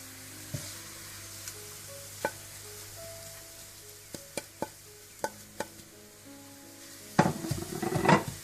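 Onions browning in a pot for Degi chicken biryani give a low, quiet sizzle dotted with sharp clicks and stirring knocks, swelling into a louder, busier crackle near the end.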